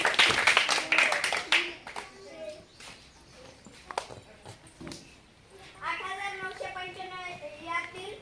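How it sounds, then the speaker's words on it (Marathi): Children in a classroom clap for a classmate in a quick burst of close, sharp claps that fades out, followed by voices talking. "चला टाळ्या घ्या जरा तुमच्यासाठी."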